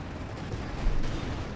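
Anti-tank cannons firing in the real-time strategy game Company of Heroes 2, a dense, rumbling burst of gunfire-like shots that peaks in the middle of a short stretch of continuous battle noise.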